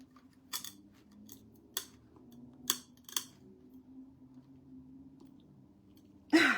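Scissors snipping through a paint stick piece for a homemade craft sled, several sharp separate cuts spaced over a few seconds, close and quiet, ending in a louder scrape.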